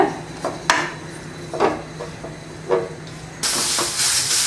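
Carrots sautéing in ghee over a low flame for carrot rava laddu, with a few scattered clinks and scrapes of a spoon against the pan, then a steady broadband sizzle that swells near the end; no one talks.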